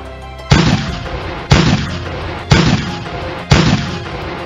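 Pirate ship cannons fire four loud, booming shots spaced evenly about a second apart, each a sharp blast that rolls off into a short rumbling tail, with no talking.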